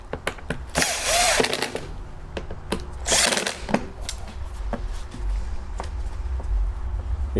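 A power tool runs in two loud whirring bursts while driving bolts into a generator head, with clanks and taps of handling between and after the bursts.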